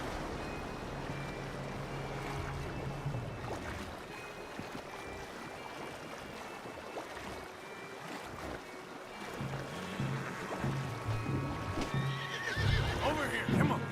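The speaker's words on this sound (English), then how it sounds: "The horses are confused. We need to round them up." Horses neighing and whinnying with clip-clop hooves in Red Dead Redemption 2, scattered loose horses calling out over a restless background, louder toward the end, with game characters talking throughout.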